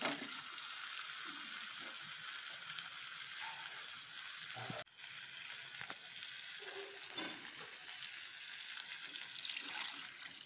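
Spiced meat for biriyani sizzling in a pot as salted, turmeric-tinted potato-boiling water goes in, a steady close frying hiss with bubbling and a brief break midway, no talk.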